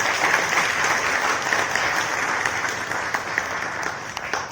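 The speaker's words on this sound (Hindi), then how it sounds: "सभी उपस्थित सभागार में जोरदार तालियों से अपने आप का अभिनंदन करें" Audience in an indoor hall at a Diwali gathering and awards ceremony applauds loudly and steadily, a thick continuous clapping that thins toward the end with a few sharper claps.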